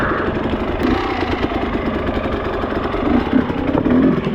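A Husqvarna TE250i dirt bike chugs along a rocky enduro trail, its engine loud and close with uneven low-gear pulses and a few sharper revs near the end.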